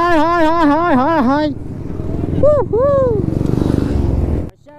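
Motorcycles pull away at a bike rally in Nashik, a steady engine roar building under loud revving and sweeping horn or siren tones, with riders' voices mixed in.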